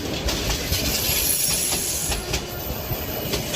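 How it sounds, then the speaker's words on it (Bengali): A train pulls away from a deserted village station, its wheels clacking in a steady rhythm over the rails under a continuous rolling rumble and a faint high squeal, close and fairly loud throughout. "ট্রেনটি আমাদের নামিয়ে দিয়ে আবার ঝিকঝিক শব্দ করে চলতে শুরু করলো"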